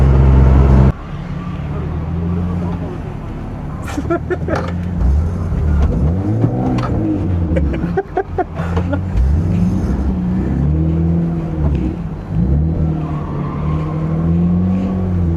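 A drift car on a drift taxi ride at a drift team event revs hard in rising and falling swells while its tires squeal and skid. The sound is loud and close from inside the car, with occasional voices.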